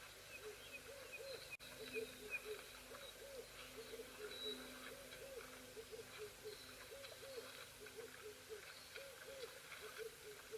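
A red-eyed dove calls from the background of an African wildlife camera scene, its soft, repeated hooting coos faint and steady over continuous low ambient bird and insect noise, with no one talking.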